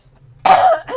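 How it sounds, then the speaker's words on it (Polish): A single harsh cough from a person with allergies, sharp and close, followed by a brief second burst. "przepraszam was bardzo za ten kaszel"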